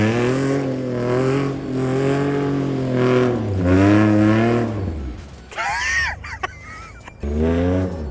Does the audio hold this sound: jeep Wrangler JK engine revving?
yes